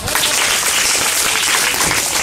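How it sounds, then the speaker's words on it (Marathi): A school audience gives sustained applause for a student at a lecture event, loud dense clapping running evenly throughout with a few voices faintly mixed in. "तिच्यासाठी टाळ्या वाजवा"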